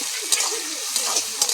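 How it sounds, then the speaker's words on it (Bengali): Chopped onion and tomato sizzle and are stirred in a hot pan while preparing a duck curry, a steady close frying hiss with a few soft scraping stir sounds and no talking. "এই যে পেঁয়াজ দিয়ে দিলাম, এই যে কাটা ফাঁকা টমেটো দিয়ে দিলাম কাটাটা।"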